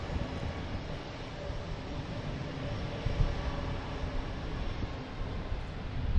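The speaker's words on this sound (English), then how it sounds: "All right, we're finally getting rid of the loud Alaska plane here." Loud Alaska Airlines jet at Logan Airport, a sustained broadband engine roar with a faint whine, steady and moderately distant, with no voices over it.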